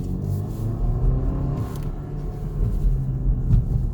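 A 2018 Porsche Macan with a four-cylinder engine accelerates hard, giving a steady, loud, low rumble of engine and road noise from inside the cabin, holding the gears with no talk.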